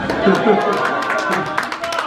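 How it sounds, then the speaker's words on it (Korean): A seated audience gives steady, dense applause to welcome a consulate police consul taking the stage for a talk on safety, with a voice speaking over the clapping. "여러분 큰 박수로 맞아주시기 바랍니다"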